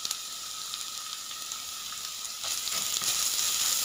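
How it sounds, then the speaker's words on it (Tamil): Crushed garlic and black pepper sautéing in a pan for spinach soup, a soft continuous sizzle that grows slightly louder near the end, close and steady with no voices. "இப்போ பூண்டு தட்டி வச்சு சேர்த்திக்கலாம். பச்சை வாசனை போகிற வரையும் நல்லா வதக்கிக்கோங்க."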